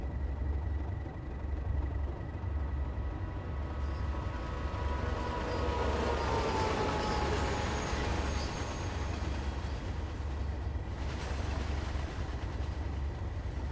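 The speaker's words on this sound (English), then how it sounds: "That's the returning steel train" A returning steel freight train passes in Train Sim World 5, a continuous broadband rumble with rolling wheel noise and a low hum, steady and fairly loud throughout with no talk.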